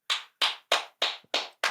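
Six sharp hand claps in an even, steady rhythm, close and loud with silence between each, from a lone person on a talk show.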